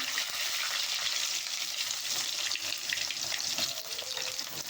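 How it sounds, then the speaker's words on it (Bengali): Potatoes sizzle in hot oil left over from frying fish, a dense, steady hiss that stays loud and even throughout, with no talking. "এরপর আমরা মাছ ভাজার তেলে আলুগুলোকে দিয়ে দিচ্ছি।"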